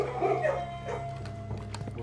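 Dog barking in the video game Blue Prince, a couple of short yipping barks up close followed by faint clicks and a low background hum.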